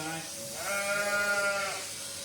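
A sheep bleats in one drawn-out, wavering call during shearing, close and fairly clear, with a person talking quietly around it.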